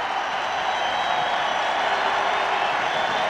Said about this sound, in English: And this Hamilton crowd loves their defense.